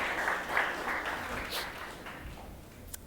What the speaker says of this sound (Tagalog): The best na palakpak para kay Lord.